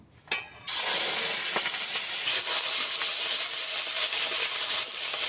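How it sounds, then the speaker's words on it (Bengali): Crabs seasoned with salt and turmeric frying in hot oil, a loud continuous hiss and crackle starting abruptly after a brief pop and holding steady to the end. "লবণ হলুদ দিয়ে কাঁকড়াটাকে ভালো করে একটু ভেজে নেব।"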